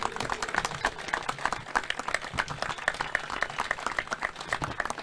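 Audience applause for a Harikatha performer, dense steady clapping from a crowd sustained throughout, fairly loud and even.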